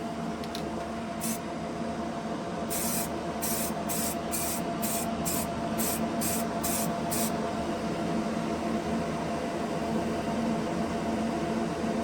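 A spray gun spraying primer on parts for a Ford F-150 Flareside crawler, firing a run of about ten short, evenly spaced hissing bursts over a steady background hum of air.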